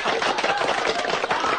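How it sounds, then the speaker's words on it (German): An electric drink mixer whirs steadily behind a bar in a radio-play scene, a dense, continuous buzzing grind running unbroken and close for under two seconds with no voices. "Wir wollen aber viel lieber dem Mixer zuhören."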